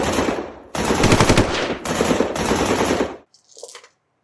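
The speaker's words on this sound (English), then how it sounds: "As a squad, they are going to open automatic fire on all of you." Loud automatic gunfire effect for a tabletop game squad: a long rattling burst of rapid shots with brief breaks, stopping abruptly and followed by a faint short tail.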